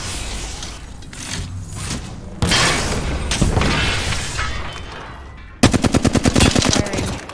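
Gunfire in a battle royale video game: a steady stretch of shooting and booms, then a rapid automatic burst of evenly spaced shots, loud and close.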